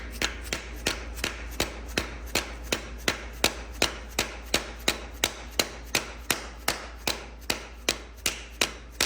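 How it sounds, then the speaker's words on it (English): A hammer taps an engine freeze plug out of a race truck engine block, giving about two dozen sharp metallic strikes in a steady, even rhythm. They are close and crisp, with no talking. "I'm gonna give this freeze plug a little tappy tap to get it out here."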